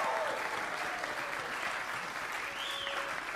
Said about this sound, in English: let's have an applause for all of those folks I just mentioned